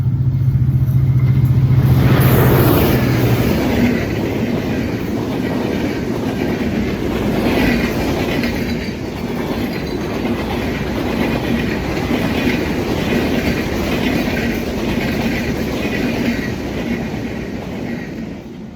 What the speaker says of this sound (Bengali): মেবি পদ্মা এক্সপ্রেস ট্রেনটা চলে আসলো